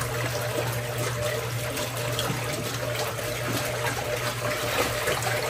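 Water runs steadily into a washing machine during its pre-wash cycle with towels inside, a continuous close trickling and splashing with a low mechanical hum beneath.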